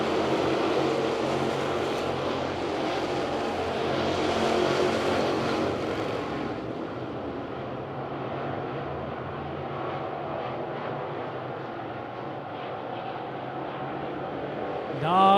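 GM Performance 602 Series race cars roar around the dirt oval at Lavonia Speedway. A loud engine wash swells toward the middle as cars pass, then eases to a steadier, more distant rumble.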